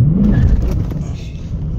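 A 1996 C4 Corvette's engine during a first-gear rolling start with a learner on the stick: a loud, close, low mechanical drone that rises briefly and then eases back, with a voice talking over part of it.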